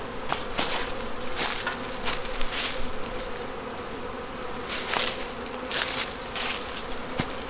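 Honey bees swarm and buzz steadily around an open hive being inspected for drawn comb on new foundation, a dense, continuous hum with individual bees passing close by.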